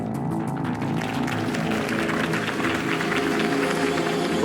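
Steady crowd applause with cheering fills a campaign rally for Harvey Dent in the Batman Telltale game, a continuous dense clapping wash without breaks.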